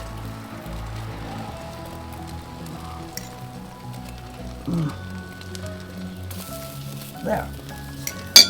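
Greens and onions sizzle and crackle steadily in a pan for an omelet, a soft continuous frying hiss with occasional clinks, while a voice speaks briefly.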